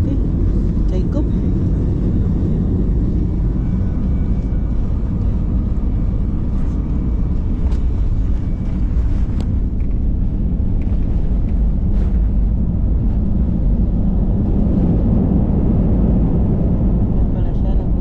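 A Philippine Airlines airplane takes off with a steady, loud, broad jet roar and cabin rumble that holds for the full stretch without easing.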